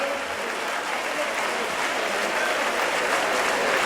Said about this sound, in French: Des applaudissements à la mesure de leur courage.